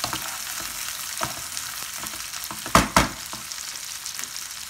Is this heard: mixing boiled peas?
yes